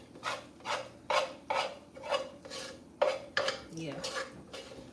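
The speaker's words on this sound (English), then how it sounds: "Y'all hear that slop?" A wet food mixture is spread and scraped across a pan, making about eight rhythmic, close scraping strokes in steady succession with no talk over them.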